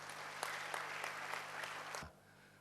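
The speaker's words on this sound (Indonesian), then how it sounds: "berikan tepuk tangan bagi Tuhan" A church congregation claps together, a dense burst of applause with a few sharp individual claps that stops abruptly after about two seconds, leaving a low hum.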